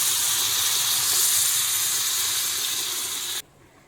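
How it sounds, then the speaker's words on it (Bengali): Water poured into a hot pan of fried spice masala while cooking a vegetarian vegetable curry, a loud, steady hissing sizzle that cuts off abruptly near the end. "তো এরপর আমি জলটা দিয়ে দিচ্ছি।"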